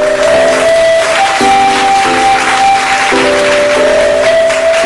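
An audience claps at an award show stage, a sustained burst of applause mixed with stage music tones, fairly loud and continuous throughout.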